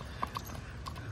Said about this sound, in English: Horlick Canter.